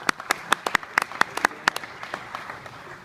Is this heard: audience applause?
yes